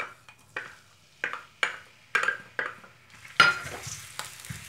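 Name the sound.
garlic frying in oil in a pan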